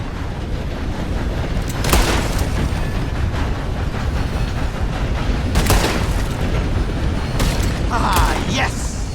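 Gunshots aimed at bottles in a Red Dead Redemption 2 shooting contest: a few sharp reports spaced several seconds apart over a steady, dense game ambience, with a faint voice now and then.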